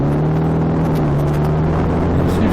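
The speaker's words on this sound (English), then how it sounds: "It's got some kind of twin cylinder engine in by the sound of it." A twin-cylinder trike engine runs close and loud with a steady, throbbing drone that barely changes pitch.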